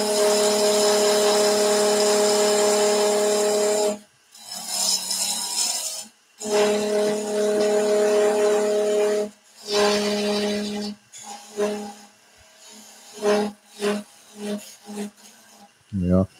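A skew chisel cuts a bead on a wood lathe in a potting shed, with a steady tonal machine hum broken by several pauses and short scraping cuts, ending in brief choppy bursts.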